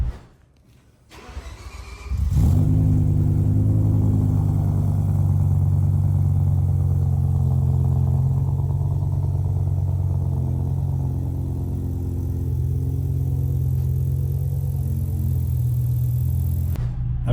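BMW M5 E60 engine starts and settles into a loud, steady idle rumble with a raspy exhaust leak near the driver door, continuous for the whole span with no talking.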